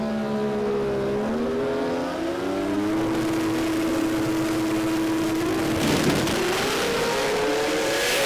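Drag race cars launching down the strip at a jamboree, loud engines roaring and rising in pitch as they accelerate away, with a continuous heavy mechanical drone throughout.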